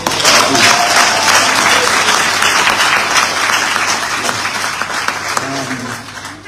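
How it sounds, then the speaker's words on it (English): Loud, sustained applause from a crowd at a university graduation ceremony, gradually fading toward the end with a few voices underneath. "Another round of applause."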